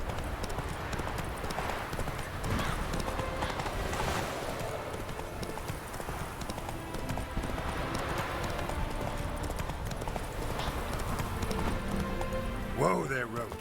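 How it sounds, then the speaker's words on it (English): Roach, a horse in The Witcher video game, gallops with a steady rapid clip-clop of hooves throughout, while a voice talks over the running hoofbeats. "Whoa there, Roach."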